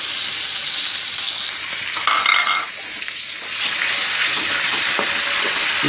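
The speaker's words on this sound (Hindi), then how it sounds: "कढ़ाई गर्म हो गई है, अब हम इसमें घी डालेंगे। और इसमें हम अब प्याज डालेंगे।" Onions frying in hot ghee in a heated karahi for Shinwari dumba karahi, a loud continuous sizzle that swells briefly as the onions go in, then settles into a steady hiss.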